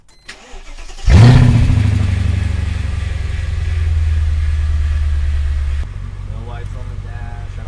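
A Mercedes engine cranks briefly and fires into a loud start, then settles into a steady idle that drops in level near the end, with a voice speaking faintly underneath.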